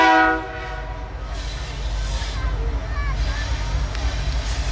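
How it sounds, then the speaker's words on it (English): A freight train rolls toward a railway line in Mexico, its low engine rumble steady and building, with horn-like tones early on and people talking in the foreground. "There's a train coming,"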